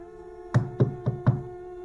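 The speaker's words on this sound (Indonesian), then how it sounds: "tiba-tiba saja ada suara ketukan di pintu depan." Four quick, evenly spaced knocks on a front door as a sound effect in a mystery audio story, crisp and close, over a faint steady hum.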